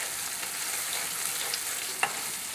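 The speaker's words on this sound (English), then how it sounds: "in this pan we have the chorizo cooking" Chorizo sizzles in a pan over medium heat, a soft, even crackle heard up close, with a couple of faint clinks near the end.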